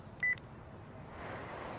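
A single short electronic phone beep rings out near the start in the Spirit Hunter: NG video game, followed by faint, quiet background ambience.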